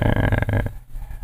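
A dog grumbling and growling close by during an indoor show recording, a short throaty burst that cuts off abruptly into quiet room noise.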